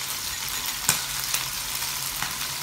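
Chicken pieces for Kung Pao chicken frying in a pan, a steady close sizzle with a few sharp pops and spatters standing out, no voices.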